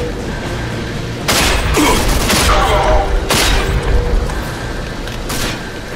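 Booming grenade blasts and heavy shotgun fire in Rage, a few loud broad bursts spaced a second or two apart over a busy combat background.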